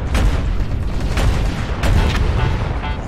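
Artillery explosions in the video game MechWarrior Online: dense, continuous rumbling booms and impacts roll on loudly for several seconds, with a few sharper bursts cutting through.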